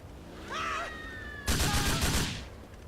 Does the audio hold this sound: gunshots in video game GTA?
yes